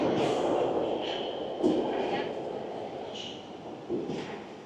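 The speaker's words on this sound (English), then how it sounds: "it looks like the train is just arriving in time" A London Underground train rumbles into a station platform, with rolling wheel noise, brief squeals and clanks over about five seconds, heard up close.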